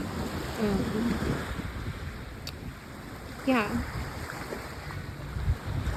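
Sea water along the Adriatic coast, a steady broadband wash of waves and wind across the microphone, with a brief voice rising over it twice.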